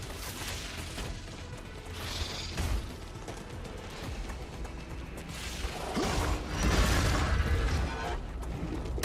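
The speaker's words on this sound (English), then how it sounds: "Changing mags." Magazine reload in the game StarRupture, a quick run of mechanical clicks, clacks and latch sounds, layered with dense game noise and a heavier rumbling burst toward the end.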